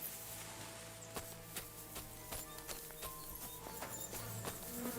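Horse hooves clip-clopping in the medieval video game Kingdom Come: Deliverance 2, a steady walking rhythm of sharp hoof strikes over a quiet background of game ambience.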